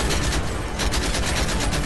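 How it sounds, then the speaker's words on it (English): Rapid automatic gunfire fired from the hip in Modern Warfare 3, a loud, dense burst of shots that runs almost the whole time with hardly any pause. "Shoot from the hip for a bit."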